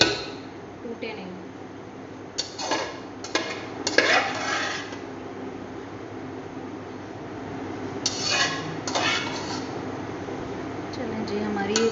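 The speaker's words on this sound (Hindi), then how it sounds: "बिल्कुल स्लो हम हाथ से अपना ये चम्मच चलाएंगे ताकि हमारे राइस जो हैं वो टूटे नहीं" A spoon slowly stirs barbecue rice in a pot by hand, with soft scraping and a few metallic clinks against the pot, while a person talks over it.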